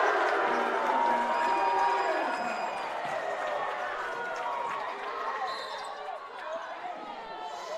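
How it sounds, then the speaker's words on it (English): A basketball crowd at a men's college game, Brevard vs. Bob Jones, roars loudly after a three-pointer, a broad wash of cheering and shouting that slowly tapers, with sneaker squeaks and a voice talking over it. "Crowd erupts on the Duncan three."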